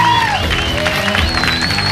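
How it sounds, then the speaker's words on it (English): A comedy club audience claps and cheers, a short burst of fairly loud crowd applause with whoops and tonal music or voices mixed in. "Give yourselves a big round of applause for coming out and supporting live comedy tonight."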